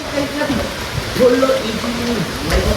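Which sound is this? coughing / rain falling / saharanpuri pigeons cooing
rain falling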